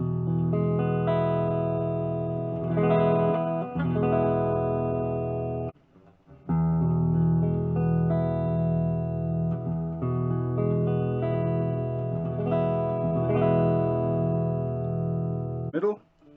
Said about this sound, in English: Just gonna do a few chords between each guitar, and then we'll add some dirty channel.